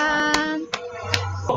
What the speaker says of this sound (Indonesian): Kita kasih tepuk tangan untuk Atika